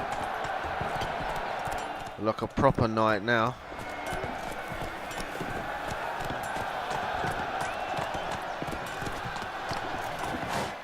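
Roach, the horse in The Witcher 3, gallops in a rapid, steady clip-clop of hooves that runs throughout. A short spoken line breaks in near the start.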